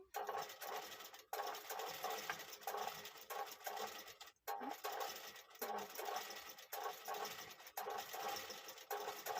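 A computer embroidery machine stitches a hollow sleeve design, giving a steady, busy mechanical chatter that runs almost unbroken, with brief pauses near the start and middle.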